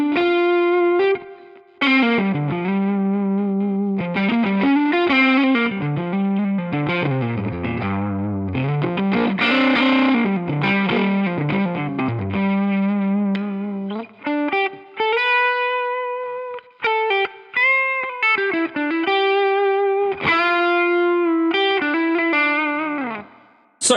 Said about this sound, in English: we've got things like room reverb here. So without and with.